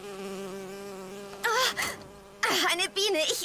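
A bee buzzing in the video game BioShock Infinite, a steady droning hum with a clear pitched tone, broken twice by loud, wavering bursts of sound layered over it.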